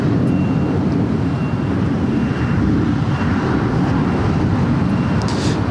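An El Al Boeing 787 Dreamliner departing LAX from the south side gives a continuous, heavy jet engine roar, distant and rumbling, with a hint of wind buffeting and no voices.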